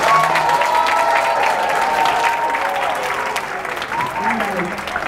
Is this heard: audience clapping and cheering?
yes